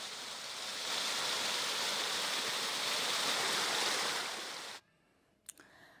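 Small waterfall streaming down a slope on Chamundi Hills near Mysuru, a steady close rushing wash of water for about five seconds that then cuts off abruptly, followed by a faint click.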